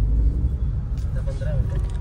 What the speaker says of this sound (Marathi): रस्त्याला काम चालू आहे त्याच्यामुळे ट्रॅफिक झालती अख्खी.